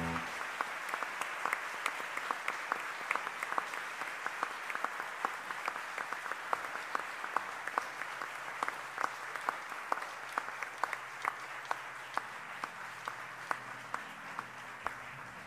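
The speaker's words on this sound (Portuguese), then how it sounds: "para quem eu peço palmas e preces" A concert audience at a jazz show at Sesc Pompeia gives sustained applause, steady and fairly distant, with individual sharper claps standing out through the whole stretch.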